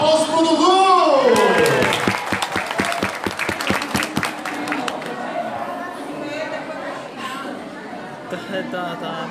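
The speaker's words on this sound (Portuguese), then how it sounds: "Então, aplausos pro Dudu!" An audience applauds and cheers for Dudu, a boy about to recite a Christmas poem, the clapping dense and loud at first and then thinning into scattered claps and crowd chatter.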